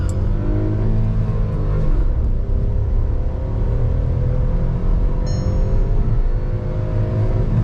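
A manual Skoda Kylaq accelerates hard from a standstill through first, second and third gears with wheel spin, its engine note loud and close, rising and dropping at each shift over a steady rumble.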